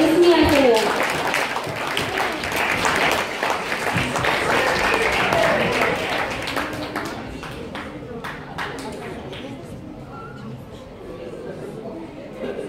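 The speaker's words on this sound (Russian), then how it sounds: "Мы провожаем вас громкими аплодисментами." Audience applause after children's performers at a patriotic song festival, loud and sustained for several seconds, then thinning to scattered claps and quiet room noise.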